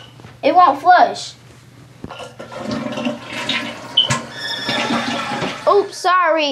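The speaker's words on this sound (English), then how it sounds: "It won't flush." A toilet flushing in a house bathroom, a rushing gush of water at close range, with people talking over and around it.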